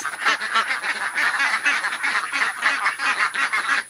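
Farmyard ducks quack in a rapid, overlapping run of nasal calls, fairly close and loud, continuing steadily with no talk over them.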